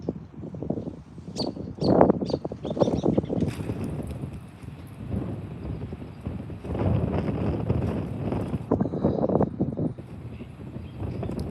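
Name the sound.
strong cold wind blowing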